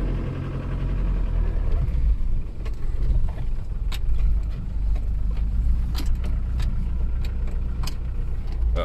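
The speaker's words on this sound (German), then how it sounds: "Schicker Kaltstart." A Mercedes W203 starting from cold: a steady, loud engine rumble holds throughout, with faint sharp clicks and clatter on top and no talking.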